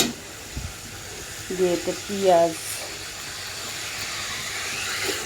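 Onions drop into hot oil left from frying pangas fish and hiss into a steady sizzle, a continuous close hiss beneath a voice speaking Bengali.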